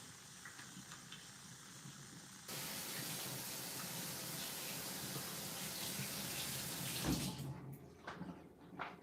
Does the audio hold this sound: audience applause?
no